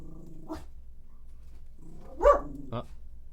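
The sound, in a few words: dog barking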